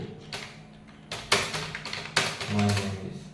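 Computer keyboard keys tapped by hand during a lesson on the Home tab, in uneven clusters of close, crisp clicks with short pauses between bursts and a faint voice in the background.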